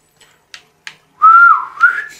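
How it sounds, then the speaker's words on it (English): Enemies in The Last of Us Part II signal with a loud rising-and-falling whistle lasting about a second, preceded by a few faint, sharp clicks or footsteps. No voices are heard. "They whistle at you"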